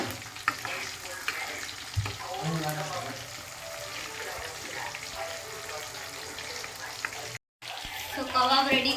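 Kebab being mixed and fried in a pan, with a steady sizzle and stirring scrapes throughout and a brief dropout near the end. A voice talks in places over the cooking.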